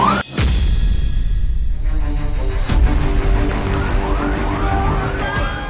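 Fire engine sirens wail with rising and falling sweeps over a heavy rumble of engines and crowd noise at a blaze consuming semi-permanent houses, loud and continuous.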